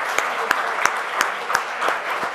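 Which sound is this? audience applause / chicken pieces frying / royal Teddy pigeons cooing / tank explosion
audience applause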